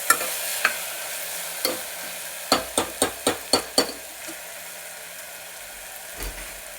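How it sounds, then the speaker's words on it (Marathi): Onions with half a spoon of salt are stirred in a pan: a light sizzle beneath a few scattered spatula knocks, then a quick run of six rhythmic scraping taps before it settles down again. "अर्धा चमचा मीठ टाकलं हे हलवून घेऊया चांगलं, म्हणजे कांदा मऊ पडेल।"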